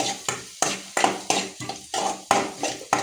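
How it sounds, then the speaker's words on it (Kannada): Onions frying in a pan for an orange peel curry are stirred with a utensil, giving loud, close scrapes roughly every half second over a soft sizzle, with no talking. "ಈರುಳ್ಳಿ ಹಾಕಿದ್ಮೇಲೆ ಚೆನ್ನಾಗಿ ಫ್ರೈ ಮಾಡ್ತೀನಿ"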